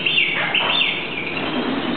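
Alexandrine parakeet chirping in repeated bright, high calls, fairly close and steady, with a continuous run of tweets through the whole stretch.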